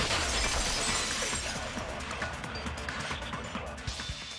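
A glass-shattering effect in the game Danganronpa 2: Goodbye Despair, a loud crash and spray of breaking glass at the start that thins into scattered tinkling fragments settling over several seconds.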